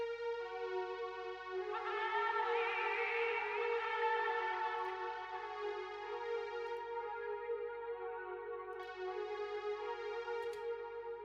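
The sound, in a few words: layered strings in an FL Studio house track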